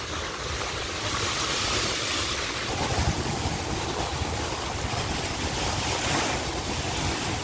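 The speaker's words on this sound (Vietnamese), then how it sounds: "Quá trời không, sóng biển kìa. Gió rất là mạnh các bạn ha, thông cảm." Sea waves and strong wind on the coast of Thạnh Phú, Bến Tre, Vietnam, at Cồn Bửng beach: a loud, continuous roar of surf with heavy wind buffeting the microphone throughout, and no voices.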